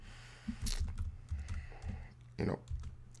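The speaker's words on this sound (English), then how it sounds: "You can just type it." Keystrokes on a computer keyboard during website building, a few scattered clicks and short bursts of typing close up, with low background hum.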